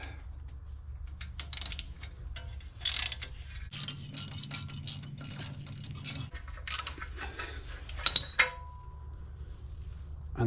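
Stone guard screws come out of an Alfa Romeo Giulia Veloce during a front brake service, with a close ratcheting and whirring power tool in short runs, light metallic clicks and a brief steady drone.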